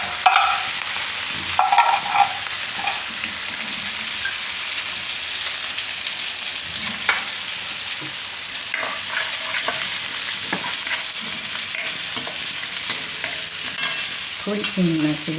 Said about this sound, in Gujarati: તો તેલ આપણું ગરમ થઈ ગયું, એમાં થોડીક રાઈ નાખીશું, થોડુંક જીરું, આદુ મરચાં ને લસણ જે આપણે રાખ્યું હતું.